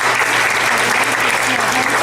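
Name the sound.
audience clapping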